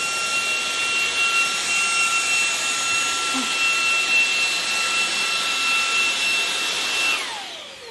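A Dreame XR V10R cordless vacuum cleaner runs at maximum power on pet hair, a loud, steady high-pitched whine with airflow roar that holds evenly, then its pitch drops away as the motor winds down at the end.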